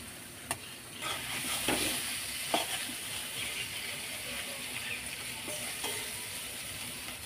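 Spice paste for an eggplant and fish curry sizzles and fries in a pan while being stirred, with steady hissing and occasional scraping knocks of the spoon, close and fairly quiet.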